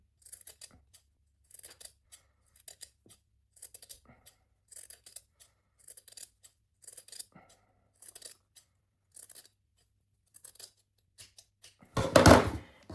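Scissors snip steadily along a fabric seam allowance during sewing, a string of short crisp cuts at a regular rhythm ending in a louder burst of rustling near the end.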